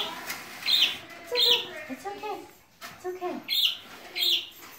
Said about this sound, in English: The chirping noises are back.